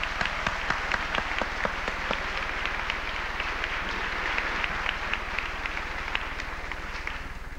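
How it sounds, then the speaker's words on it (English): A banquet audience at an awards dinner for a sporting clays association gives sustained, dense applause, many hands clapping together in a steady roar that continues without speech. "Let's hear a really good round of applause for them."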